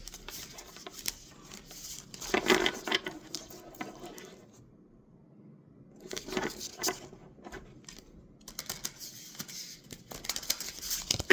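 Soft papery riffling and flicking of a deck of oracle cards being shuffled in bursts, with quiet pauses between, close and fairly faint.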